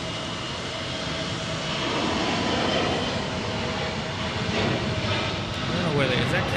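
A fixed-wing airplane departs Portland International Airport, its engine roaring steadily at a distance for several seconds with a slowly swelling rumble, and a voice is heard over it.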